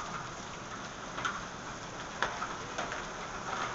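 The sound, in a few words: hailstorm hail falling in Austin, Texas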